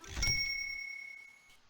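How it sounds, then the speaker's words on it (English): A bright little chime rings once in a video game as a notebook is collected, a sharp ding that fades away smoothly over about a second. "when you get a notebook, it makes a cool little ding sound for your points"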